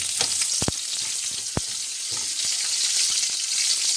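Ginger, garlic and onion sauté in hot cooking oil, a dense, even sizzle holding throughout, punctuated by a few sharp clacks of a utensil against the pan, with no talking.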